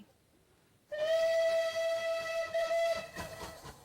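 The Canadian Pacific, a historic steam train running on Britain's Watercress Line, sounds its whistle in one loud, steady blast of about two seconds after a quiet start, followed by fading rumble.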